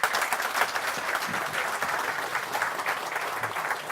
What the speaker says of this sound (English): Let us thank here with a big round of applause.